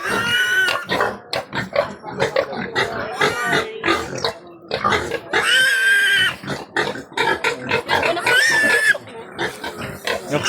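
A pig grunts and oinks in dense, busy bursts nearly without pause, loud and close, with some rustling and other noise mixed in.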